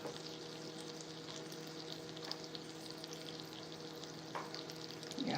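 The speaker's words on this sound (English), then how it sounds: "We gotta hear the sexy sizzle." Breakfast food frying in a hot pan, a steady close sizzle and crackle running throughout with occasional small pops and stirring scrapes, no talking.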